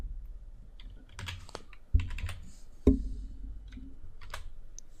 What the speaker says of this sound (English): So I'll do cd and I'll type in my app2.